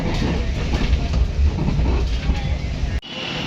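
A passenger express train runs on rails near a crossing, giving a steady, loud low rumble with clatter that continues without a break and then cuts off sharply near the end.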